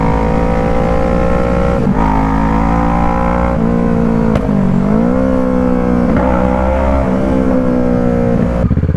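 A 2012 Kawasaki ER6N parallel-twin motorcycle revs up close and loud, its engine pitch rising and falling through several blips over a steady idle.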